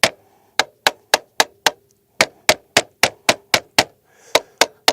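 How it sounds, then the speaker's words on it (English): An armorer's hammer strikes the turrets of a Vector Optics Continental 1-8x rifle scope in sharp, loud, close metallic taps, about sixteen in quick succession with one short pause partway through, and no voices. "we're going to take our armorer's hammer and smack these turrets around a little bit."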